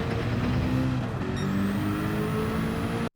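A Group 1 race car in Gran Turismo 7 at Le Mans, powering out of a corner with a loud, sustained engine note rising steadily in pitch, then cutting off abruptly.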